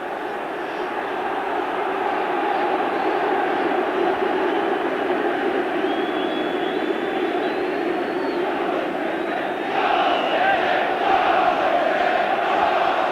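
A football crowd at Manchester City v Tottenham in a 1993 FA Cup quarter final roars and chants to lift the home side, a dense, sustained wash of noise rising louder toward the end.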